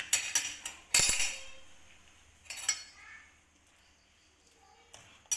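Utensil clinking and scraping against a dish while homemade milk powder is stirred, starting with several sharp metallic clinks and a louder clatter, then sparser taps separated by quiet gaps.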